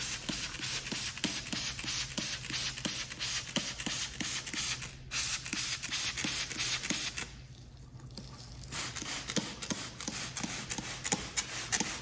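Fine mist sprays onto a car windshield treated with a hydrophobic glass coating, a rapid rhythmic run of short soft bursts that pauses briefly twice and then resumes.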